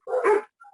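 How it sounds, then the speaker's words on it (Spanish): A small dog gives a single close, loud bark with a short yelp, followed by faint high whimpering tones, heard alone with no talking. "Hay un perrito que ladra muy lindo ahí."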